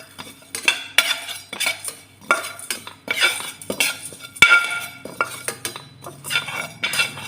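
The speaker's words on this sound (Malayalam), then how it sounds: "ജീരകം, മഞ്ഞൾപ്പൊടി ഇട്ട് ഇച്ചിരി വറുക്കണം." Fennel, cumin and turmeric powder are dry-roasted in a pan and stirred, giving repeated scraping and metallic clinks of a spoon against the pan in an uneven rhythm, close up, with no voice.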